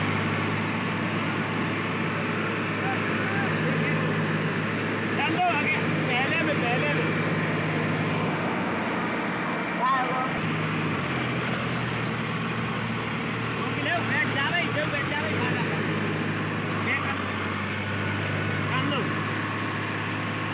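Two tractors, a Powertrac and a Swaraj, strain and slip while pulling together in a muddy field. Their low engines drone steadily under a voice.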